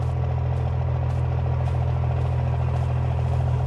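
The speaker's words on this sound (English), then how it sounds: "Listen to that inline six rumble." Inline six truck engine idling in a farming and homestead video game, a loud steady low rumble with even pulsing throb, close and continuous with no speech.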